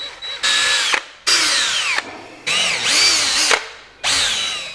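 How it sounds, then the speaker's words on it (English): A power drill bores screw holes into a wall stud in four loud bursts, each whine starting high and sliding downward as the motor slows. Short silences separate the bursts, and no voices are heard. "gonna drill 2 holes, one here and one up here"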